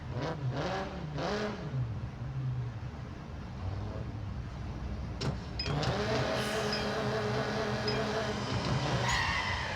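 Race start in the Need for Speed No Limits mobile game: a car engine over-revs, its pitch sweeping and wavering, then settling into a sustained high drone with whirring tones, loud and steady throughout.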